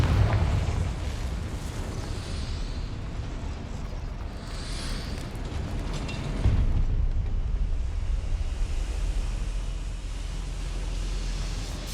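A Confringo fire spell cast in Hogwarts Legacy explodes in a deep, rumbling blast, followed by a sustained roaring, crackling burst of flame and noise that swells again partway through, loud and close, with no talking.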